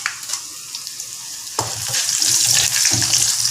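Dried red chillies drop into hot oil for an oyster mushroom stir-fry, giving a quiet crackle that swells into a loud, sustained sizzle halfway through, with no talking.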